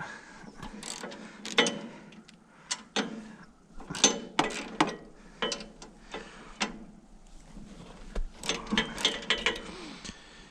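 Hand tools remove 13 mm metric bolts from a Woodland Mills HM126 sawmill, making a series of sharp metallic ratcheting clicks and clanks in irregular bursts, close and fairly clear, with no speech.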